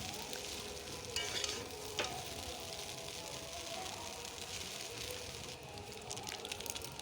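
Chow mein with winter vegetables being stir-fried in a pan, a continuous close sizzle with occasional scraping and clinking of the utensil against the pan.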